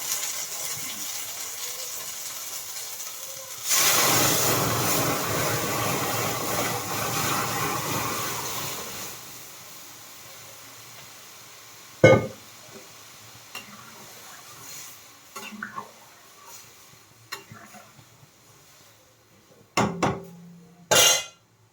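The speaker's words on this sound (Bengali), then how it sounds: "পেঁয়াজটা হালকা ভালো হয়ে গেছে ডালটা ছেড়ে দিচ্ছি" Lentils are tipped into a pan of lightly fried onions, setting off a loud burst of sizzling that lasts about five seconds. It then fades to near quiet, broken by a few sharp knocks and clatters of utensils.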